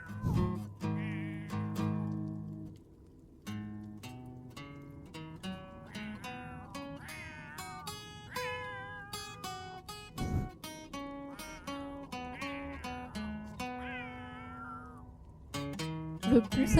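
A cat in a life-simulation game meows repeatedly in a sing-along, its rising and falling calls woven through steady game music over several seconds.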